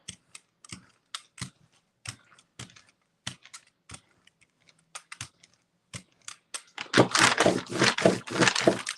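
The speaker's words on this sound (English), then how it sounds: "that brayering's really loud" A brayer rolling across a gel printing plate, loud rough rolling and tacky crackling that swells in the final two seconds after sparse clicks and taps of handling.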